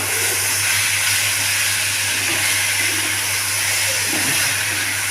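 Taro stems hit a hot frying pan with cooked vegetables, producing a loud continuous sizzling hiss with a low hum underneath, steady for several seconds and free of talk.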